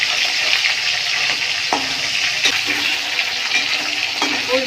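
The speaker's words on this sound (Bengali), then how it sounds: "এক পাশে ভাজা হোক, তারপরে উল্টে দিবো" Fish frying in hot oil in a pan, a steady, close sizzle that hisses continuously with a few small pops and clicks, no voices.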